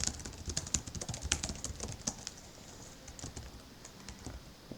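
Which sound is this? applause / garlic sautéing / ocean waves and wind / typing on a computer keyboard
typing on a computer keyboard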